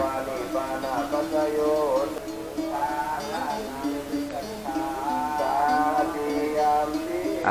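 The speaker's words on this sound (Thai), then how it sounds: "ควายมีหลายตัวนะครับผม" A herd of water buffalo in a rural Tai Khun village near Kengtung bellow and low in repeated calls, several animals overlapping nearby while someone talks over them.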